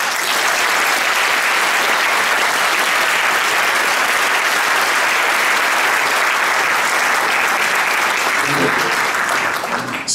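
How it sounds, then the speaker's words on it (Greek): A concert audience on Lemnos welcomes a guest with loud, sustained applause, thick and unbroken for about ten seconds before dropping away at the close, with a voice faintly underneath. "θα ήθελα ένα πάρα πολύ έτσι δικό σας γερό χειροκρότημα για να υποδεχθούμε όλοι μαζί την κυρία Σοφία Μανουσάκη"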